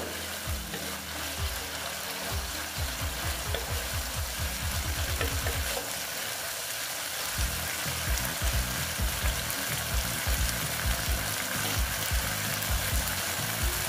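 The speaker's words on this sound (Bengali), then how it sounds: "দেখো স্টিমটা আমি কমিয়ে রেখেছি, এখন একটু বাড়িয়ে দিলাম, দিয়ে একটু ভালো মতন এটাকে একটু কষিয়ে নেব।" Kochur loti (taro stolon) curry sizzles and fries steadily in a pan, with rhythmic stirring and scraping strokes running through the loud, continuous hiss and no voices.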